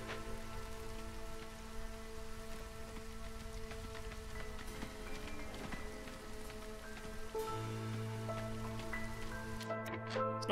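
Steady rain falls during the Drizzle season in the city-building game Against the Storm. It is a dense, even patter of drops on surfaces with a low ambient drone underneath, moderately quiet and with no talking.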